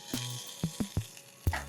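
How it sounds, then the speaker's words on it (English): Melted butter sizzling in a pan, heard as a few short, close hissing bursts spaced apart, each fading quickly into a quiet background. "It's a sizzle."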